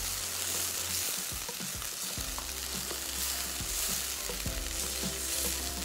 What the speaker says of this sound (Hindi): चिकन परफेक्टली भुन चुकी है। अब आप देख सकते हैं कि इसके अंदर सिर्फ ऑयल आपको नज़र आ रहा है।